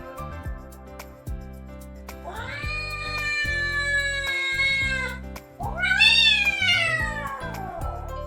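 A black cat meows loudly twice, long drawn-out wails close by, over a low rhythmic thumping background, in the game Avatar World.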